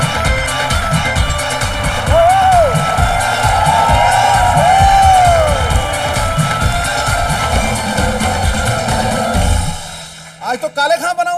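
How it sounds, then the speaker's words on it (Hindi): A studio audience at a comedy show claps and cheers in a dense, steady roar for about ten seconds, with voices mixed in, before it cuts off and a few scattered sounds follow. "ठोको ताली, ठोको।"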